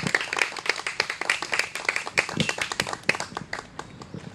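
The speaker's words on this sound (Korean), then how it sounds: "선생님을 뜨거운 박수로 모시겠습니다" Sparse, uneven clapping from a small outdoor audience welcomes a panpipe performer on an old mountain pass road in Hwasun, Korea, the sharp claps fairly close and continuing steadily without speech.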